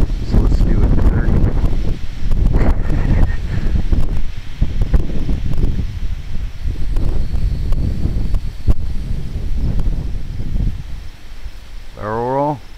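Strong wind buffets the microphone in heavy, uneven low roaring gusts that rise and fall throughout, close and loud, with a brief whine near the end.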